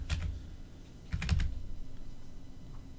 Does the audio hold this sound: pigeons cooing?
no